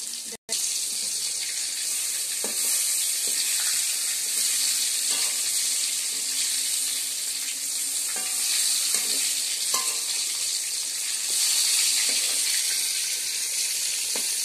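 Eggplant slices frying in a pan give a steady, fairly quiet sizzle throughout, with scattered clinks and light handling noises over the hiss.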